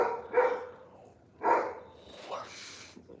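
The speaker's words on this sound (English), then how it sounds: "My dog is seriously barking." A dog at home late at night barks in a few separate bursts, moderately close, with a quieter yip-like sound near the end.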